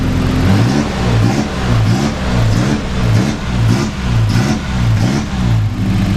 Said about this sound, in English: I can't rev it up without it sounding like it's hitting off the rev limiter